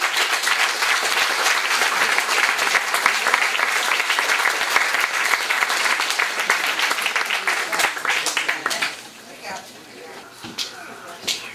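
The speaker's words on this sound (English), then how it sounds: "please give her a round of applause" Audience applause welcoming Magda Cregg at the grand opening of the Beat Museum, a dense, steady clapping that holds for about nine seconds before thinning out to a few scattered claps.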